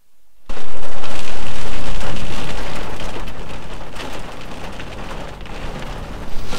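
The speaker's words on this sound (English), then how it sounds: "A storm. Winter storm." Heavy winter-storm rain suddenly starts hammering on a camper van in Greece, a loud, dense roar of drops striking the roof that eases slightly but continues throughout.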